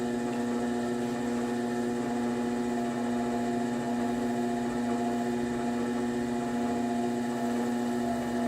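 An electric pottery wheel spins with a one-pound ball of clay for a bowl, giving off a steady, unbroken motor hum at an even level with no talking.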